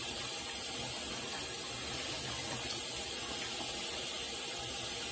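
Tap water streams steadily into a sink as cooked crab legs are rinsed of ice, a constant close rush and splash throughout.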